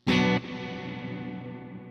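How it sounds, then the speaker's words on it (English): A Kemper reverb on a struck guitar chord: a loud attack that cuts off fast, leaving a long, even tail whose bright top end fades away quickly while the lower ring lingers, heard alone. "a reverb that starts with some highs, but the highs quickly come out"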